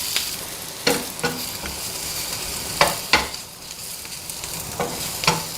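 Yellow and red bell peppers sautéing in a pan for a paneer capsicum gravy, a steady close sizzle broken by several sharp scraping stirs at irregular intervals, with no voices.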